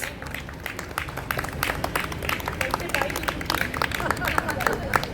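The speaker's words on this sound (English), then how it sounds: "Huge round of applause for all the actors." Audience applause for the actors at a community Queen's day celebration, a dense steady patter of many hands clapping with crowd murmur underneath, sustained and fairly loud.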